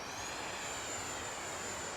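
An FMS 64mm EDF J-10 RC fighter jet flies overhead with a steady, high whining ducted-fan roar that holds constant throughout, no voice over it.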